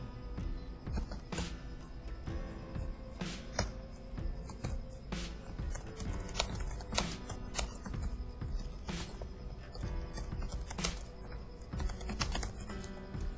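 Text is typed into a file in a Linux terminal, a steady stream of close, rapid keyboard clicks with occasional louder key strikes and no speech.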